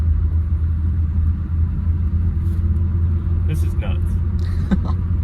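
A 1965 Ford Mustang that sat for 33 years with a seized engine, now cruising on the road. Its steady, deep engine rumble and road noise continue throughout while people talk over it.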